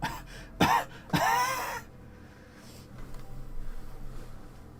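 A woman gives two harsh, close coughs in quick succession with a rough, sputtering edge, followed by quiet breathing and faint background noise.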